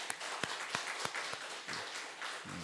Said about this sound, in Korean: 우리 박수를 한번 합시다